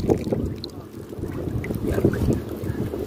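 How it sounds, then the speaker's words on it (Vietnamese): Wind blows across a small boat at sea, giving a steady low rumble and microphone buffeting for a few seconds, with no talk. "Gió rồi cũng bắt đầu thổi lên rồi đó."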